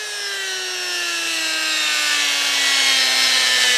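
A Dremel rotary tool with a red rouge pad polishes metal, giving a steady high whine that slowly drops in pitch under light friction noise, close and alone.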